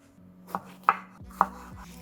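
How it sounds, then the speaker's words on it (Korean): A knife chops a bell pepper into small squares on a board for a sandwich, giving three or four sharp, close, distinct cuts spaced about half a second apart against a quiet background. "파프리카를 채를 치게 되면 샌드위치 사용할 때 흘러내리기 때문에 이렇게 네모나게 사용할 거예요"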